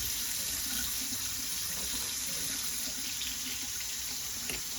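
Water streams steadily from a Kohler Fairfax faucet into a sink, a close, even hiss that holds without a break, with no one speaking.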